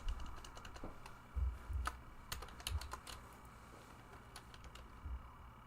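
Quick, light keystrokes on a computer keyboard clatter in irregular bursts, with a few heavier thumps mixed in, at low level and with no voices.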